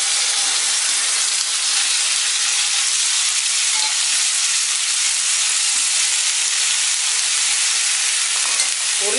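Onion, tomato and chopped vegetables stir-fry for sambar in a hot pan, giving a loud, steady, unbroken sizzle and hiss with no voices.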